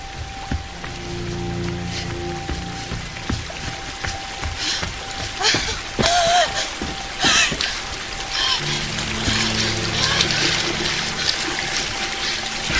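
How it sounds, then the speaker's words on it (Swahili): Water falls and splashes continuously, like a steady pour or downpour, with faint tonal sounds and possible murmuring voices in the background. "Sauti ya maji ni kama anaisikia maji kuporomoka huko."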